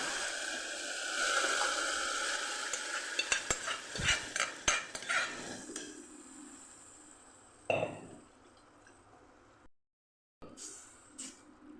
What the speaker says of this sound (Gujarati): તો અહીંયા આપણા મગ જે સાઈડ ઉપર બાફેલા રાખેલા છે એને આપણે અહીંયા ઉમેરી દઈશું